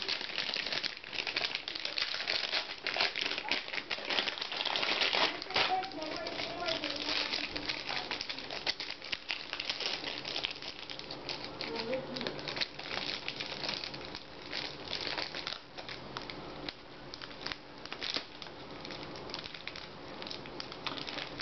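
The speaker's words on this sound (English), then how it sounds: "lots of little bits of plastic around the sides here, so it'll look a little bit nicer once I take all of these off" Protective plastic is peeled off the sides of an Asus Eee Top ET2002 all-in-one computer, giving continuous close crinkling and crackling while a voice talks over it.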